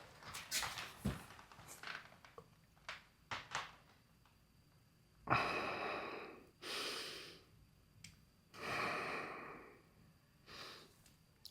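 A patient under medical treatment takes several audible breaths, heavy inhales and exhales through the mouth and nose that swell and fade in slow bursts, close and fairly quiet, with no talking.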